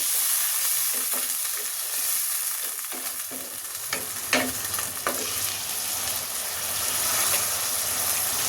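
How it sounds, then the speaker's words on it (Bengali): Onions and spices fry in a pan with a continuous crackling sizzle, interrupted by a few sharp clinks of stirring and a brief louder spatter midway. "পেঁয়াজটা ভালো পুড়ে যাচ্ছে"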